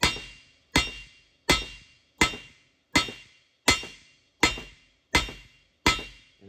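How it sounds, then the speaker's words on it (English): The clean, flat side of a hammer peens a weld on a Viper V10 engine part, nine evenly spaced ringing metallic strikes, each one sharp and decaying quickly, close and loud with no talk. "Clean, flat side of the hammer. Not super hard, it's just enough to peen and make it compacted."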